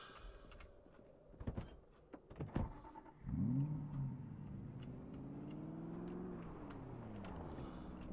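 A car engine in the video game Project Zomboid starts and revs, then settles into a steady, rising drone. A few sharp clicks and clunks come before it. No one speaks.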